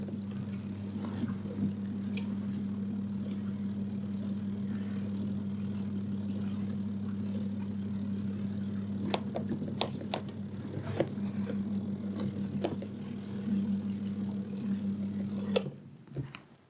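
A portable caravan washing machine on its spin cycle gives a steady, droning motor hum that runs evenly for many seconds, with a few faint clicks and knocks before it winds down at the end.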